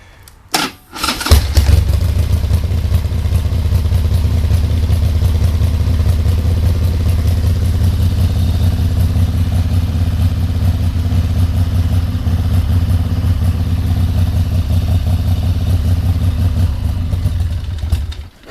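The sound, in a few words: Harley-Davidson motorcycle engine running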